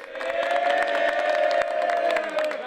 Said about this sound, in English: Now take us out with a cheer